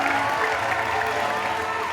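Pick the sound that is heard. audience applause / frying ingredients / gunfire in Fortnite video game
audience applause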